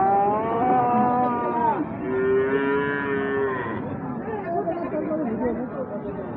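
A young black-and-white Australian Holstein Friesian bull with a white forehead lows at Ambari cattle market, giving long, loud, drawn-out moos close by over a steady murmur of voices and crowd noise.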